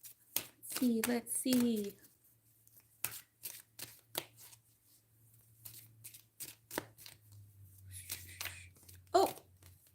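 Tarot cards being shuffled by hand in several short riffling bursts, with someone talking intermittently over and between them.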